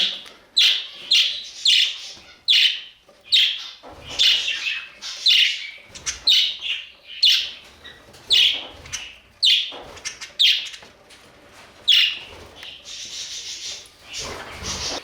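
Budgerigars in a cage chirp and tweet in quick repeated bursts close by, a busy, lively chatter with a few harsher squawks toward the end.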